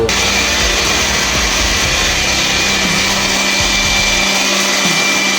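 A loud, continuous motor whir of a mixer grinder running at full speed grinding soaked dosa batter, steady throughout with a constant high hum.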